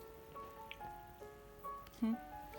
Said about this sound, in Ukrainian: Дивіться, і зараз дощ у нас такий сильний.